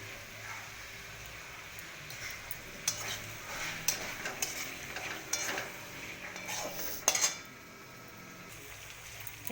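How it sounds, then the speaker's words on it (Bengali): Spices and onion paste frying in a pan, a low continuous sizzle under intermittent scraping and clinking of a utensil stirring against the pan, several sharper knocks near the end, no voices. "এবারে এই মশলাগুলো ভাজা হয়ে গেল,"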